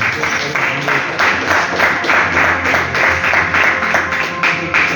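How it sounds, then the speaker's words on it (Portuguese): A Pentecostal congregation in Mogi Guaçu, Brazil, claps for Jesus during worship, a loud, steady, rhythmic beat of many hands keeping time together throughout. "Mais palmas para Jesus."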